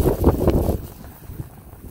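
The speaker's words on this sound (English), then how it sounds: "Wind's blowing pretty hard." Strong wind buffets the microphone on a ridge of sand dunes in Mongolia, loud rumbling gusts at first that ease into a quieter, unsteady rush.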